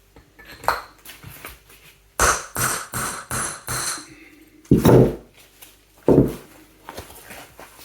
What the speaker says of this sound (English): In fact, I have to hammer it.